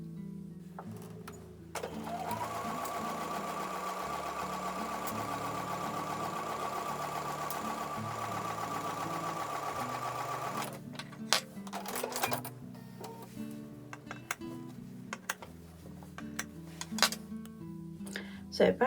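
A sewing machine stitches quilt block units for an Amish star quilt in one steady, fast mechanical whir lasting several seconds, followed by clicks and handling noises as the work is adjusted.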